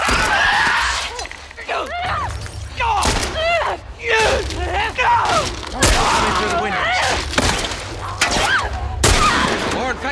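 Gunfire from The Last of Us cracks in sharp loud shots and short bursts throughout, mixed with shattering impacts, while people talk and shout over it.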